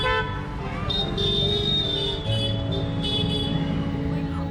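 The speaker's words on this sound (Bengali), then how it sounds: "হর্নের আওয়াজ ছাড়া একটা মুহূর্তও কাটে না" Vehicle horns honk in dense, narrow city street traffic in Kolkata, with bikes and autos passing; sustained and overlapping toots ring out over a constant traffic roar.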